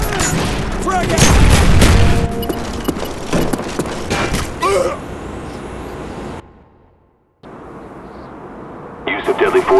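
A heavy frag grenade blast and crackling gunfire in the Black Ops video game, loud and dense at first with shouted voices mixed in, then fading into a brief silence before the fighting noise returns.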